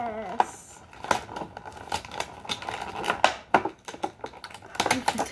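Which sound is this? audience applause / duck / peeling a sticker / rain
peeling a sticker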